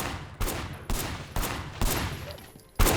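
Gunfire in the video game Sleeping Dogs: five sharp, loud volleys of shots arrive at roughly half-second intervals, with a later final burst, each one decaying into a noisy tail.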